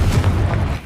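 A Confringo blasting-spell explosion in Hogwarts Legacy, heard as a single brief, low, rumbling boom that fills the short moment with deep energy and no voices.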